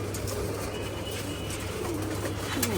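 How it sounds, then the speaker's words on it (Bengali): Chila breed pigeons, the females busy eating their feed, coo softly in low repeated rolls against a steady background hum, with faint chirps from other birds around them. "কবুতরগুলা মাদিগুলা সব খাবার দিয়ে দিছি, খাবার খেতেছে।"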